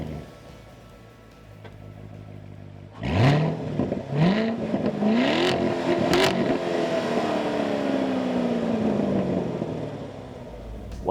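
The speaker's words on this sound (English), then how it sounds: "Now that option bypasses the mufflers for an amazing sound." A 2014 Chevrolet Corvette Stingray with the optional multi-mode exhaust bypassing the mufflers idles, then blips its engine in several sharp, loud revs that climb and fall, ending in a long, rising pull, heard close up.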